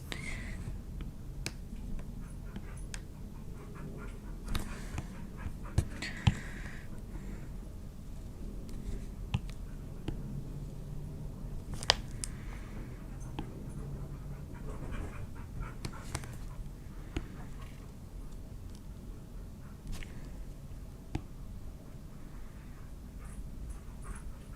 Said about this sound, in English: if you can hear that noise outside, those are my dogs